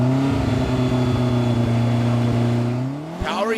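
A 4x4 off-road truck at the Maxxis 4XTR Parys event powers up over an obstacle, its engine a loud, steady close-up drone that swells and climbs in pitch as it pulls away near the end.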